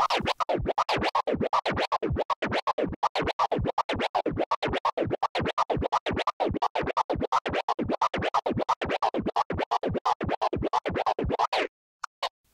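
DJ turntable flare scratch with a couple of extra crossfader taps: a rapid, steady run of choppy scratch bursts, sharply gated by crossfader clicks, continuing for about eleven seconds before a couple of isolated final cuts.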